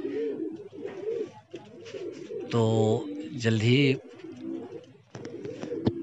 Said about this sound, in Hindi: 14 करीब कबूतर उड़ रहे हैं और 2 नीचे बैठे हैं